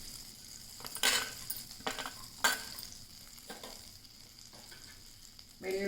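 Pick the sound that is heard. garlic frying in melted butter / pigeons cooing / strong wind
garlic frying in melted butter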